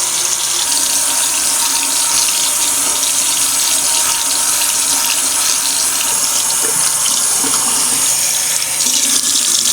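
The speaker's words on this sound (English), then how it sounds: "I use a Vanity Cream face bar to wash my face." Tap water runs steadily into a sink while a face is washed with a Vanity Cream face bar, a loud, even hiss with no pauses and no voices.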